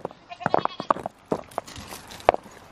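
Goats bleating outdoors in winter, several short bleats coming in irregular bursts, fairly close, with some talk mixed in.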